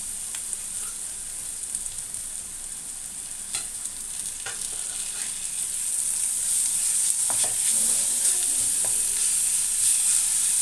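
Ginger, garlic and onion paste frying in a pan, a continuous close hiss of sizzling oil that grows slightly louder partway through, with occasional soft clicks of stirring.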